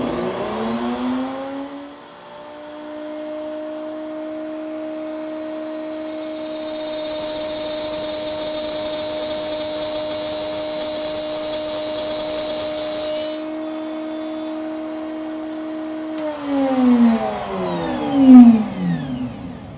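A router in a router table whines at a steady pitch while it cuts a box joint groove in wood. The high cutting noise comes in partway through, then the tool spins down at the end.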